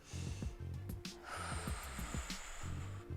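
A forceful breath pushed out during a Pilates twist: several sharp, breathy huffs close to the microphone over a quiet room with faint background tones.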